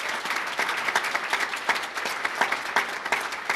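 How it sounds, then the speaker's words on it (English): Audience applause at a Washington state bill-signing event, a steady room-filling patter of clapping at moderate level, continuous and without speech. "Big round of applause for them as well."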